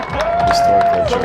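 Disc golf tournament crowd cheering and shouting as spectators scramble for a thrown jersey, a loud burst of mixed voices under a commentator talking.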